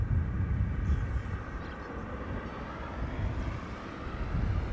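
A KLM Boeing 777-300 airliner moves at Schiphol airport, a steady distant roar of jet engines mixed with wind rumble on the microphone, continuous and moderately loud.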